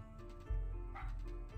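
Dog barking in the game Battle Princess Madelyn: a few short, deep barks in quick succession over a low, muffled background, moderately close.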